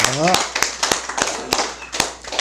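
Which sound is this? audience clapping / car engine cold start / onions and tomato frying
audience clapping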